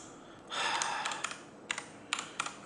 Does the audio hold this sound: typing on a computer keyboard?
yes